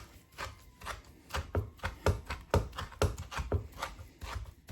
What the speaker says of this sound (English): So I'm just going to roughly chop up this spinach so there's no massive bits in